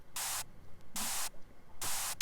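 Bursts of heavily distorted, static-like white noise from a mix with 100% distortion applied, three loud harsh blocks each lasting about a quarter second, separated by near-silent gaps.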